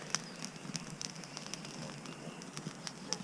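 A morning campfire at an airsoft team's hiking camp crackles with sharp, irregular pops and snaps over a soft hiss as fresh firewood catches, close and fairly quiet.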